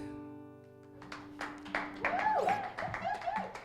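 A small live radio-studio audience claps after an acoustic song, a guitar chord ringing out first before scattered close claps and a voice come in.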